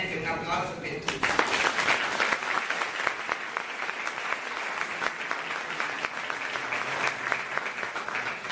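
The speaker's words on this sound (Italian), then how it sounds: "veramente un applauso per tutti" A short burst of voice gives way to sustained applause from a sizable audience at a school's 40th anniversary event, steady and lively clapping that continues throughout.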